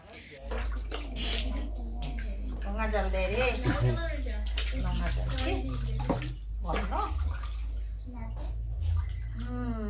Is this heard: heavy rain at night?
no